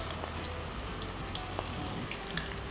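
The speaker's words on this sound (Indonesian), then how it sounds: "Baru kita goreng." Battered crispy basil leaves fry in hot oil, giving a steady, dense sizzle with scattered small pops and crackles, close and continuous throughout with no talking.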